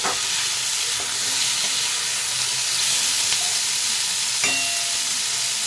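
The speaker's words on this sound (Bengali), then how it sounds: "আলুটা ভালো করে এইভাবে ভেজে নেব" Potatoes and onions fry in a pan in oil rendered from chicken skin, a steady close sizzle running throughout with a few faint clicks of stirring and no voices.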